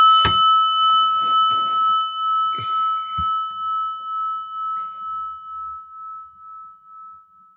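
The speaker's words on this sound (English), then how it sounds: "So we're going to ring a little prayer bell first." A small prayer bell is struck once at the start of a meditation, its clear metallic tone ringing on and slowly fading over several seconds, with faint soft knocks and movement in the quiet room.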